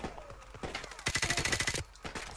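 Gunfire in Call of Duty: Modern Warfare Remastered, with a dense burst of rapid automatic shots, loud and close, amid game noise and no clear talk.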